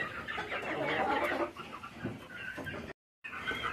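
Clucking and squawking from Indian-breed chickens as they are let out of their pen, a busy, continuous flock chatter with a brief cut of silence near the end.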